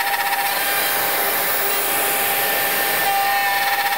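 A woodworking power tool removes a lot of wood for a bedside cabinet with a Festool dust extractor hooked up, making a loud, constant, close grinding roar with no pauses or talking.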